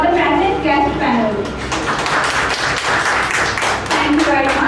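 An audience at an inter-college annual fest applauds the guest panel, dense continuous clapping, loud and fairly close, with a voice speaking over it at the start and end.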